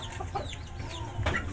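Pet chickens cluck softly nearby in a brief, quiet burst of short calls over low background noise.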